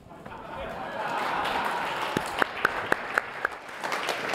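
A symposium audience applauds as a speaker is introduced, broad clapping swelling steadily, with a few sharper individual claps near the end.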